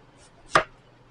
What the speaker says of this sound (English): cut your onions thin